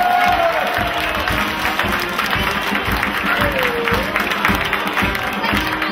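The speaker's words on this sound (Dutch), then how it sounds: "Een daverend applaus voor onze winnaars." Crowd applause for the winners of a pole-sitting contest finale, a loose, rhythmic outdoor clapping with some cheering and a voice briefly audible beneath.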